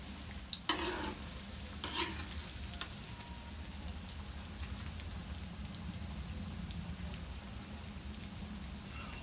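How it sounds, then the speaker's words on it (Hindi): Paneer pieces frying in hot oil, a faint, steady crackling sizzle like light rain, with a couple of soft knocks early on. "और हमें तब तक फ्राई करना है जब तक ये नाइस गोल्डन कलर के नहीं हो जाते।"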